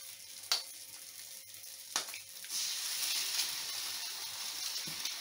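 Eggs crackle and sizzle in a hot frying pan after a couple of sharp clinks and taps, settling into a steady, close frying hiss.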